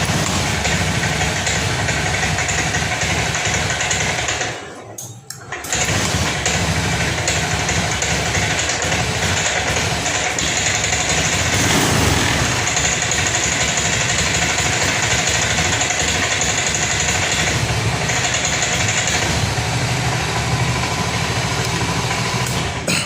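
A Honda Scoopy scooter whose engine sputters and dies when throttled is started and left idling, giving a steady, dense engine drone close by that briefly drops out near the start and then runs on evenly.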